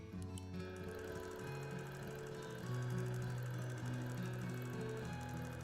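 A longarm quilting sewing machine stitches at a steady rapid rate, a fine even mechanical whir with a quiet hum that shifts pitch slightly partway through, soft and close with no talk.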